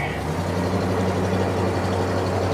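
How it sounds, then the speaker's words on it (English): A steady, low rumbling engine idles through an old exhaust, a constant deep drone with no change in pace. A 1972 Pontiac barn find, run after 20 years. "Sounds pretty good for that old exhaust"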